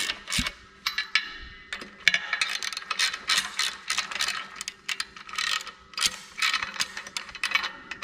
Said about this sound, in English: So you want to draw these bolts up a little at a time so you don't distort the cover.